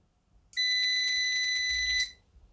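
A continuity tester checking the pins of a relay lets out one steady high-pitched electronic beep, lasting about a second and a half, close and clear, starting and stopping abruptly against near silence.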